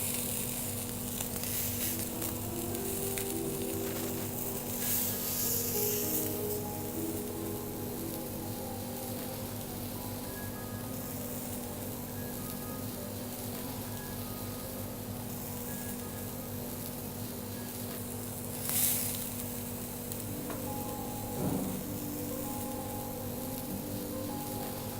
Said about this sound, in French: On va juste lui former une petite croûte de chaque côté et après on le terminera donc poché.